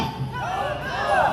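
Rally crowd at an outdoor protest in Gwangbok-dong, Busan, shouting a word back in unison, a loud drawn-out chorus of many voices.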